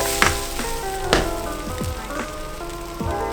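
Batter sizzles steadily in a hot pan, with a few scrapes and soft knocks as a spatula works under it for the flip; close and continuous, no talking.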